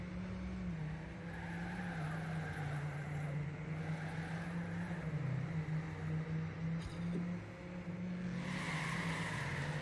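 A video game car engine drones steadily throughout, a continuous motor tone holding level with slight pitch wavers, as if a car idling or cruising nearby.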